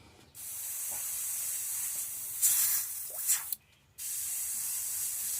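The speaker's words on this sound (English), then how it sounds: "Now she's spraying better." A paint sprayer hisses steadily with paint thinned by a few drops for better flow. It sounds close and continuous, with one brief pause near the end before it resumes.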